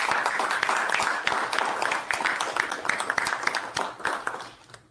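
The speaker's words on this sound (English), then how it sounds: "I request all of us present to give a very huge round of applause for all the" Audience applause for technicians at an equipment flagging-off ceremony, a sustained round of clapping with distinct sharp claps over a dense wash, nearby, tapering off toward the end.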